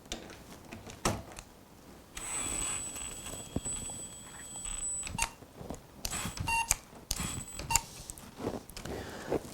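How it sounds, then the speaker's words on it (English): A high, steady electronic overload beep from a Festool Ti-15 hybrid impact driver sounds repeatedly over several seconds amid clattering mechanical noise and intermittent knocks from the tool. "you can hear the beep because it's saying that it's being worked too hard"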